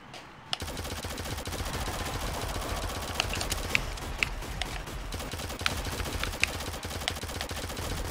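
Rapid sustained gunfire from a duel in the shooter game Shadowgun Legends, a dense steady stream of shots with sharper cracks standing out, loud and close with no talking.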